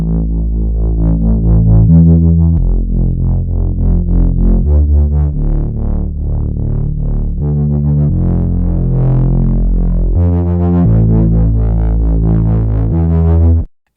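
A loud, distorted bass synth wobbles in a steady rhythmic pulse, its gritty tone rising and falling, ending abruptly.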